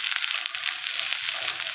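Chopped tomato hitting sautéed onions in a hot pan, a steady close hiss of frying with faint stirring crackles throughout.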